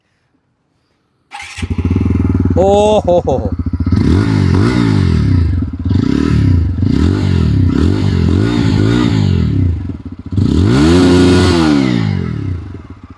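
A TVS Apache 160 4V or Bajaj Pulsar N160 motorcycle engine revs repeatedly up and down, loud and close, with a throaty exhaust rumble; a brief exclamation is heard near the start.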